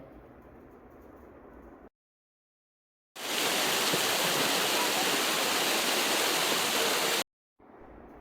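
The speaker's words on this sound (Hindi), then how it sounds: "इस खूबसूरत झरने को छोड़कर आगे बढ़ते हैं।" A waterfall in Nek Chand's Rock Garden, Chandigarh, India, roars loudly and steadily for several seconds between abrupt cuts, with quieter ambient sound before and after.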